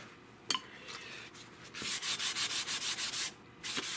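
A Winchester Model 1900 .22 rifle being scuffed for an aged look: a rapid series of about ten rhythmic abrasive rubbing strokes, close and fairly loud, after a few sharp taps.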